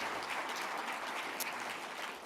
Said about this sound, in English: Let's give them another big round of applause for that